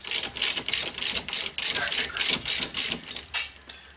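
A hand ratchet loosens 18 mm brake caliper bracket bolts on a 1993 Saturn front brake, a rapid rhythmic clicking in repeated strokes, close and moderately loud, with no talk.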